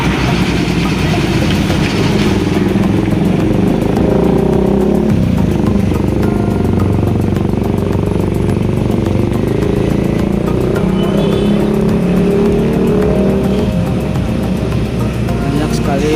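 Vehicle engines idle and rumble at a truck weighing station in Purwakarta, a steady, loud mix of motors and clatter close by that runs throughout, with someone talking over it.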